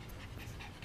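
A dog in the GTA video game pants quietly in a steady rhythm, faint and continuous with no talk over it.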